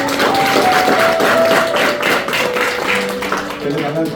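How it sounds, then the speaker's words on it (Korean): A church congregation claps in welcome for a newly registered member during a Sunday morning service, a short burst of applause under a sustained tone, fading toward the end. "환영의 박수 드리겠습니다."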